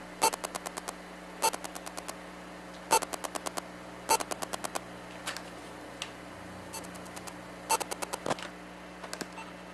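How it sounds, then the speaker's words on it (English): Electromagnetic noise from a blinking activity LED's data, picked up by a probe and amplifier: faint, regular bursts of rapid ticking clicks repeating about every second and a half over a low hum, with no talking. "That is the sound of the LED data passing as electromagnetic fields into the amplifier."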